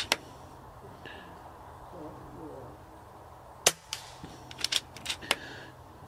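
An Airmaks Katran air rifle fires pellets at targets outdoors in light wind, giving one sharp crack, then a few quick snaps and faint metallic ticks of pellets striking, over a low background hiss.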